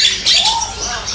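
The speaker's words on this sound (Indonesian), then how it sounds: "Ini ada jalak putih sepasang atau gimana sih mas?" A white starling calls amid the bustle of a bird market kiosk, giving bright, loud chirps and whistles close by over a busy background.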